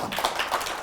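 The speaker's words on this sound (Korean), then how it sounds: "박수 한번 쳐주겠습니다" Brief burst of audience clapping during a Korean–Japanese church lecture on spiritual warfare, a quick patter of claps heard alone without talk.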